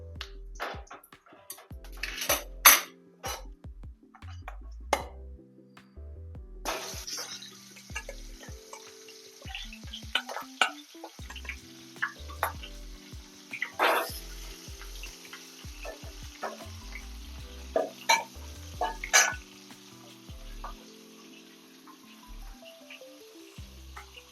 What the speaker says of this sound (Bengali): এবার কড়াইতে আমি সর্ষের তেল দিয়ে দেবো মাছের মাথাগুলো ভাজার জন্য